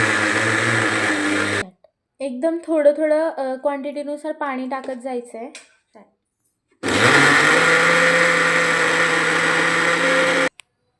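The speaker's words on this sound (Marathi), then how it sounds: "आणि हे आपल्याला मिक्सरच्या भांड्यामध्ये फिरवून घ्यायचं." A mixer grinder blending soaked dosa batter, a loud steady whirring motor that runs, stops while someone talks, then starts again for several seconds before cutting off.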